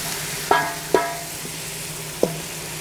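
Bacon and its grease being scraped into a sizzling pan, with three sharp scraping knocks over a steady background sizzle and no talking.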